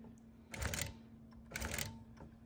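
A longarm quilting machine stitches slowly, one stitch at a time, giving two clustered bursts of mechanical clatter over a steady low motor hum, moderately close and with no talking.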